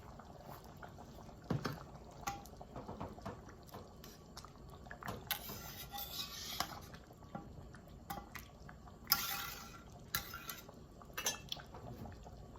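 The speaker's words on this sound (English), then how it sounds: "I'm going to simmer it for about 7 to 8 minutes" A pot of cheesy American goulash with pasta simmers quietly on the stove, giving soft bubbling and faint clinks of utensils against the pan.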